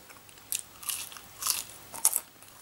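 Crunchy fried potato chips with a fluffy inside and crisp outer being bitten and chewed, three or four sharp crackling crunches spaced out over near-silent background, close and fairly quiet.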